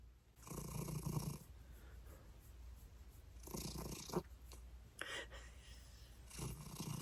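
A cat purring or snoring up close: slow, regular rumbling breaths in long pulses, soft and intimate against a quiet room.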